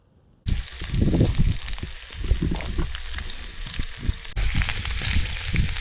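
Two sausages fry in a pan over a Trangia 25 Duossal alcohol stove, starting abruptly with a loud, close, crackling sizzle that pops and spits unevenly throughout, with no voices.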